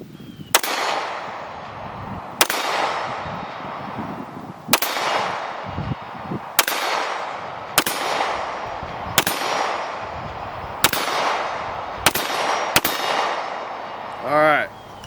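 Pistol shots from a Smith & Wesson M&P M2.0 Metal fired slowly at a range, nine sharp loud reports spaced about one to two seconds apart, each ringing out briefly, with no talk over them.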